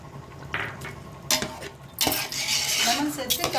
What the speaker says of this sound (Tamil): லெமன் சேர்த்து கிளறி விட்டுலாம்.